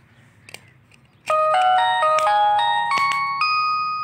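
A Cal Me C16 mobile phone plays its startup tone after the battery is fitted, a bright ascending chime melody of ringing notes that swells and sustains for a few seconds, close and clear with no talk.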